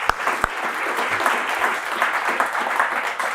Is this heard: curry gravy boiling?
no